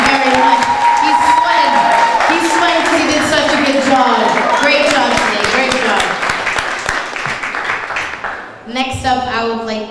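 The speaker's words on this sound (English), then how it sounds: "Can I have one more loud round of applause for the keynote speaker?" Sustained loud applause and cheering from an audience at a Cape Verdean Association Martin Luther King Jr. Day celebration, clapping for the keynote speaker, with voices mixed into the crowd noise throughout before it tapers near the end.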